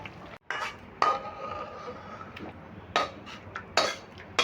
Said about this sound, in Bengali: এবার আমি ঢেলে নিচ্ছি একটা পাত্রে